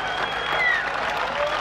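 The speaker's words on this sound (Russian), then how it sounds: "Аплодисменты бойца." Arena crowd applauding the fighters, Sinan Çağala and Vladimir, at the final gong of their bout, a dense burst of clapping and cheering heard briefly and close.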